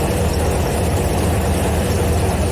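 Yak-50 aerobatic aircraft engine idling steadily, a loud, continuous low rumble with a constant even throb throughout and no speech.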